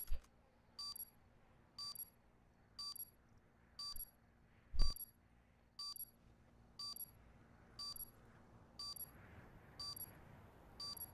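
Bomb beeping after a plant in Call of Duty Black Ops 4 search and destroy, a steady series of evenly spaced electronic beeps about once a second, with one loud thump partway through over quiet game ambience.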